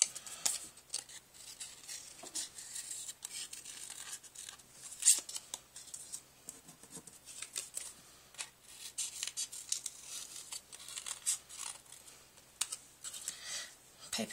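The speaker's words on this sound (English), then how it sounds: "We're going to cut 1 petal off." Small paper snips cut a petal off a die-cut paper flower with a run of quick, crisp, close snipping clicks at a quiet level.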